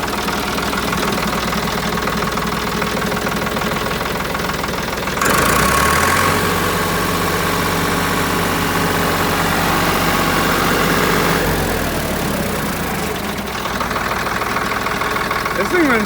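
A 1970s Ford 3400 diesel tractor runs close by with a loud, knocking rattle, its pitch rising for several seconds midway before settling back to a steady idle.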